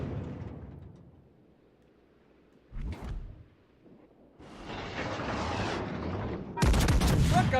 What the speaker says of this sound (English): Every shot he has taken, he has landed all 6 shells.